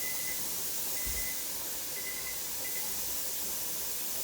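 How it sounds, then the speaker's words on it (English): Steady hiss of steam venting from a pressure canner used for canning bar clams, a soft continuous rush heard alone at low level throughout. "So I've got a good stream of steam coming out of here."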